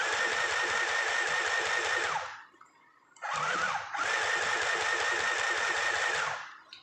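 Sewing machine driven by a foot pedal, whirring steadily at close range in two long bursts separated by a brief pause, with no talking.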